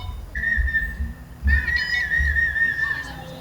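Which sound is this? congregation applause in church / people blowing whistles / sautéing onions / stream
people blowing whistles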